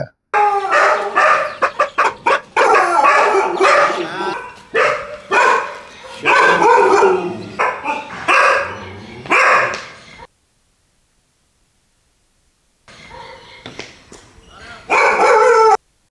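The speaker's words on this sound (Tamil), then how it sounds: "இந்த நாட்டு நாயில ஒரு தரமான கோம்பை நாயை தேடிட்டு இருக்கும்போது" Kombai dogs, a native Tamil breed, bark loudly and close in rapid repeated volleys mixed with yips, then fall silent for a few seconds before the barking resumes.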